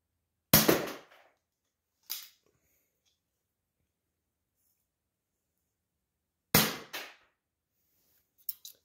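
A modded Nerf Tridex blaster fires darts in sharp, loud pops: one shot, another about a second and a half later, a long pause, then two more, each with a brief airy hiss and no voices.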